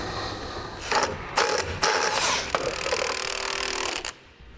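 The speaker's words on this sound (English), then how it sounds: "we want to run up our bolts evenly in a crisscross pattern to set our plate back into place on the axle" Nuts on the U-bolts of the axle plate of a 2015 Ford F-53 motorhome chassis are run up with a power tool, giving several loud bursts of whirring and ratcheting with short gaps between them, close by, with no talking.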